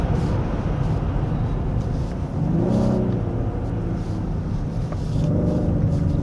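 A 2024 Genesis G80 3.5 turbo AWD sedan driving a winding road, heard from inside as a steady low engine and road rumble with two brief swells of acceleration as it powers out of corners.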